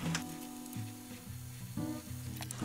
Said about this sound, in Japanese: 湯が沸騰してきたから茹でていくよ